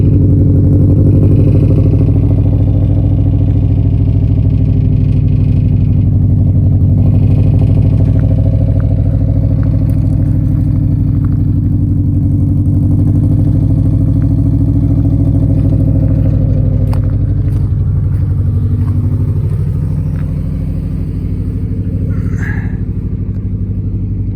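A Subaru with an aftermarket exhaust and top-mount intercooler idles loudly and steadily, a deep rumble with a faint metallic rattle coming through near the end.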